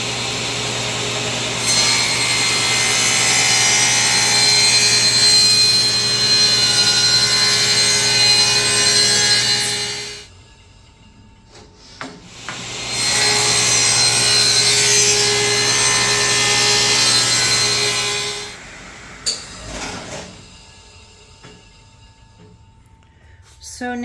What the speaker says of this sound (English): I got to rip it on the table saw